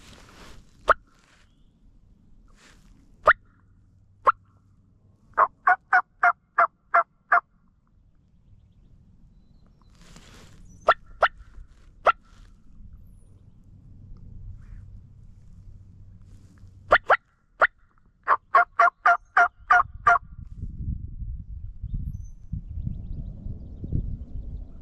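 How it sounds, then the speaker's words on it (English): Distant wild turkeys gobble in several bursts of rapid rattling calls on Kansas public land in May, separated by quiet outdoor stretches, with low rumbling noise near the end. "Three of them all gobbling together over there."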